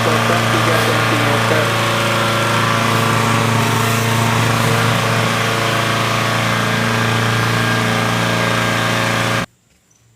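Petrol lawn mower engine running loud and steady after a pull-cord start, with a high buzzing whine that cuts off abruptly near the end, leaving near silence.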